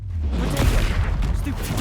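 Confringo blasting spell cast during combat in Hogwarts Legacy, a dense, continuous roar of fiery bursts and whooshing effects that stays loud throughout with no clear gaps.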